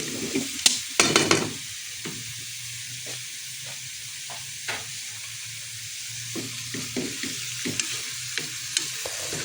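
Garlic and onion fry hot enough to burn in a pan, giving a steady crackling sizzle broken by sharp clatters of stirring, close up, with no talking.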